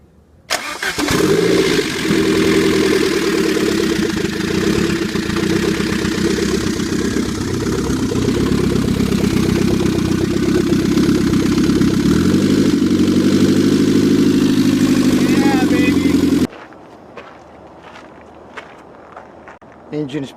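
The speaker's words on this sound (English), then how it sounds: "I'm about to start this engine." A Saab 900 Turbo Classic engine cranks, catches and settles into a loud, steady idle for about fifteen seconds before cutting off abruptly, leaving faint shop noises.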